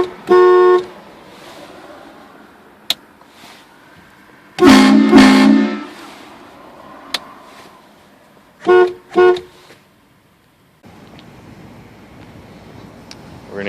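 A Conductors Special 228VX train horn, fed by a full compressor tank, blasts loudly in three main long bursts with a couple of short toots between them and quiet gaps.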